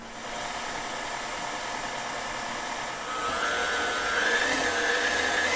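An electric hand mixer whirring steadily through banana bread batter of brown sugar with wet and dry ingredients, a continuous close motor drone that rises slightly in pitch partway through.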